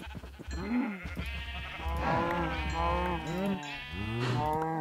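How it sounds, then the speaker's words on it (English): Minecraft cows lowing in repeated drawn-out moos, close and loud, overlapping one another in a steady herd chorus. "let's slaughter these cows"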